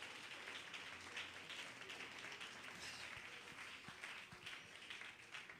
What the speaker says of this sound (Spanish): ese aplauso estuvo muy bonito